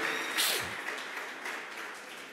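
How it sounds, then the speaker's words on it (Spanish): Church congregation claps for the Lord at the end of a prayer, a fairly faint, short burst of applause that tapers off within a couple of seconds. "denle un aplauso fuerte al Señor"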